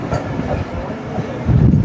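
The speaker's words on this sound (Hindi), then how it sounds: "ट्रेन हमारी टंडो आदम रेलवे स्टेशन को एस्केप करेगी।" Pak Business Express train running through Tando Adam railway station without stopping, a loud close rumble with clickety-clack wheel beats that swells toward the end, no talk.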